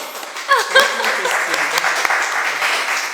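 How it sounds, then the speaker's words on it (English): Audience applause in a talk or interview setting, a steady wash of clapping from a crowd that swells early and holds through, with some voices mixed in. "Let's have a round of applause for the wonderful Alix"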